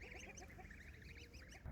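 Young goslings on a market farm honk in quick, soft, overlapping calls, repeating steadily at close range with no talk over them.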